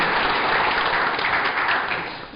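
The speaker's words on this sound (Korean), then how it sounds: "여러분 박수로 한번 더" Congregation applauding in a Korean church during a merger and pastor installation ceremony: dense, steady clapping from a large crowd that fades slightly toward the end.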